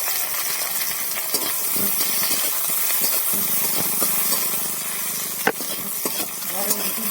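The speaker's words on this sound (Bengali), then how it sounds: "পেঁয়াজটা লাল লাল করে ভাজা হয়।" Onions frying in oil in a pan while cooking a fish curry, with a steady close sizzle throughout and occasional sharp clinks and scrapes of stirring.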